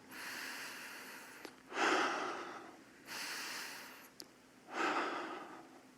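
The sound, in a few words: slow deliberate breathing during meditation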